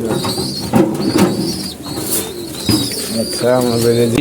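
Low, soft cooing of pigeons repeats throughout, with bird movement and a flutter near the end, mixed with background activity.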